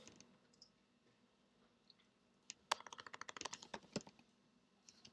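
Quick bursts of keystrokes on a computer keyboard, a short run of rapid clicks after a mostly quiet stretch, close and fairly soft with no talking.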